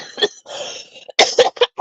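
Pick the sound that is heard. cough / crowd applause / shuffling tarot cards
cough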